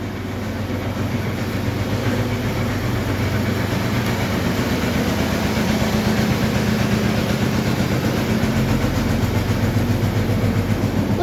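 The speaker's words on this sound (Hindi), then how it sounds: "अभी ट्रैक्टर गया था इसलिए मैंने थोड़ा रुक लिया।" A tractor passes close by outdoors, its loud engine a steady, rattling rumble that fills the whole stretch without any talking.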